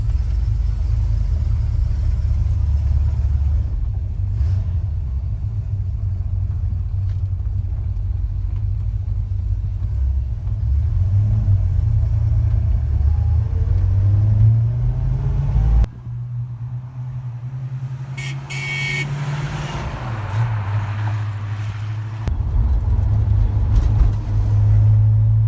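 A restored 1970 Plymouth Roadrunner with a 440 Six Pack V8 and four-speed drives along, its deep engine rumble loud and constant, dipping briefly around a gear change before the revs build again.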